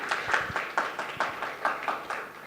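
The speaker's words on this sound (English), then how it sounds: "can we please have a round of applause for Jamil Saab?" An audience at a Habib University campus event claps for a speaker, a sparse group of hands striking in an even, repeating rhythm, moderately faint with a slight room echo.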